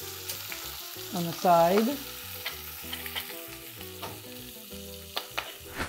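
Garlic sizzles softly in a pan during a home cooking demo, a gentle frying crackle with a few utensil taps under intermittent talk, including a brief spoken phrase.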